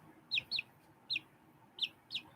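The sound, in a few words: chicken with feathered feet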